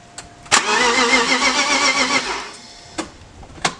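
A BMW car engine running on only four cylinders cranks and catches, running with a steady mid-pitched idle for a couple of seconds before cutting out, followed by a few sharp clicks.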